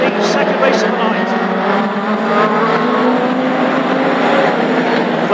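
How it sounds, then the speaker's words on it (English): Classic hot rod race cars roar continuously around an oval track at a night meeting at Lochgelly, the engines loud and dense as the pack thunders past. A race commentator talks over the noise. "Here comes 911, Harry Stewart, closing down in second place"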